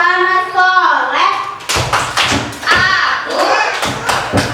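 At an Islamic preschool, young children join a rhythmic clapping chant, a sustained sung note giving way to a run of sharp, close hand claps punctuating the group's voices.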